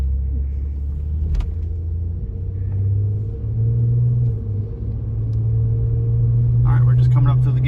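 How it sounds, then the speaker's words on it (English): Honda Odyssey minivan pulling out onto a main road and building speed, a low engine rumble rising gradually in pitch under steady road noise, close and fairly loud. "we'll come out here on the main road here and we'll get her up to speed and see how quiet it is"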